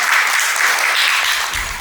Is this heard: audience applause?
yes